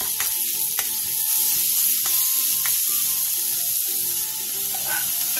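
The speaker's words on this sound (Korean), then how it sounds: "팬에 기름을 두르고 오이, 다진 마늘 2분의 1, 소금 1티스푼을 넣고 중약불에서 5분 정도 볶아주세요." Cucumber stir-fried with minced garlic and salt in an oiled pan over medium-low heat, a loud, constant sizzle with scraping and stirring clicks throughout, no voices.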